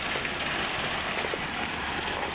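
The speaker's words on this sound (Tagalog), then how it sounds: "Pero ngayon yung matagal na ulan." Steady afternoon rain falling at moderate strength, a continuous even hiss of drops with no voices over it.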